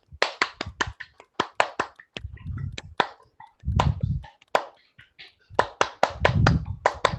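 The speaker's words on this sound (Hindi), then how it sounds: "यहां से ढीले करके हाथों को बहुत जोर से ताली बजाएंगे" Loud hand clapping at a yoga practice camp comes in quick, sharp bursts of rapid claps. Short gaps between the bursts are filled with murmuring voices.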